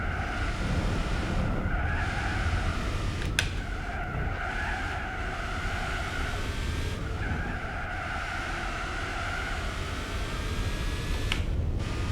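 Race car in Gran Turismo 4 driving hard with continuous engine drone and repeated tire skidding squeals through corners, loud and steady throughout with no talk.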